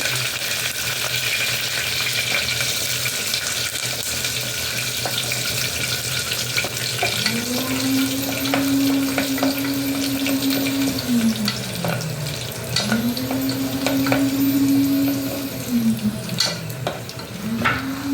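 Urad dal, mustard seeds, cumin and curry leaves fry in hot oil for a drumstick curry, a steady close crackling sizzle with occasional stirring clinks. A humming tone rises and falls in the background.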